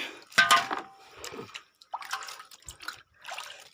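Water is poured from a container onto potted plants in short irregular splashes and trickles, close and fairly quiet, with pauses between pours.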